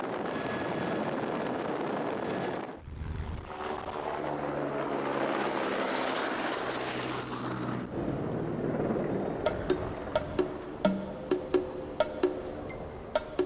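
A helicopter flies during locust swarm spraying in Madagascar, a loud steady rotor and engine roar that cuts briefly, then continues with sharp metallic ticking sounds toward the end.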